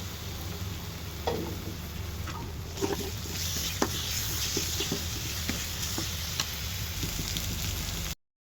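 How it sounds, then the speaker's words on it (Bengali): Ginger garlic paste hits a pan of fried onions for a braised meat curry, giving a continuous close, even sizzle with occasional stirring scrapes throughout. "এখানে পেঁয়াজগুলো ভাজা হয়ে গেছে, এবার আদা রসুন বাটা দিয়ে দিব।"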